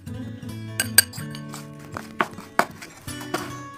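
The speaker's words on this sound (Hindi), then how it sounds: "अब इस मसाले में ये हम जो केरी के पीसेस कर रखे हैं ये मिक्स कर लेंगे अच्छे से" Raw mango pieces tossed into oily pickle masala in a metal vessel, giving scattered clinks and scrapes of a spoon against the pot, close and moderately loud with no talking.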